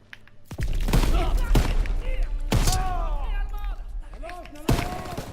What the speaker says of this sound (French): je tire sur mes alliés